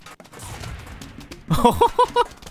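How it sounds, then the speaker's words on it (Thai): A fused Chomper-Cherry plant in a Plants vs Zombies mod bites and then explodes. A muffled game background gives way to a cluster of sharp, chunky bursts and blips in the final second. "เออกัดแล้วระเบิดเหรอ"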